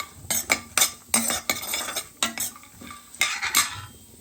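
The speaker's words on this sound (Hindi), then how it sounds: "और इधर ये ड्राई फ्रूट्स भून रही हूँ।" Dry fruits roasting in a pan are stirred briskly, with rhythmic metal spoon scrapes and clinks over a light sizzle, close and clear with no talking.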